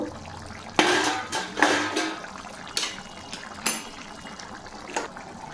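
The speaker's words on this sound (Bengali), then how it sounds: "তরকারিটা ফুটে উঠেছে, এবার আমি ঢাকাটা খুলব" A lid comes off a pot of simmering paneer curry with several close metallic clanks, amid soft wet bubbling and liquid sloshing.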